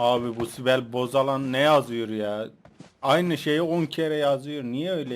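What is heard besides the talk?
No everyday noises stand out.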